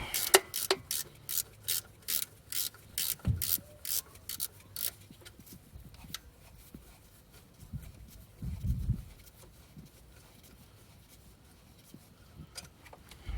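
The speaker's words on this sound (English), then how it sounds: "next step would be 10mm spanner to undo the holder for the pipe." A 10mm spanner works a pipe holder loose on a 2010 Renault Master Mk3 during a power steering pump replacement, giving quick rhythmic ratchet clicks close by, then slower scraping and metal rubbing.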